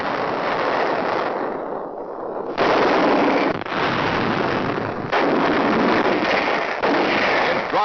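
Constant mortar fire from a 1943 World War II newsreel of Pacific island fighting, a dense, continuous roar of blasts and gunfire in loud sustained bursts with brief dips between them.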